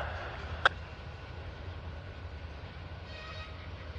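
A Norfolk Southern freight train hauling hopper cars rolls past as a low, continuous rumble with faint wheel clatter, one sharp metallic click standing out early on.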